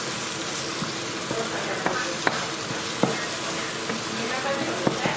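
Onions, spices and tomato puree sizzle and fry in a pan while being stirred, a steady close hiss broken by soft scraping clicks of the spoon, with no speech.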